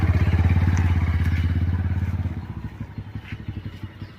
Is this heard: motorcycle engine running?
yes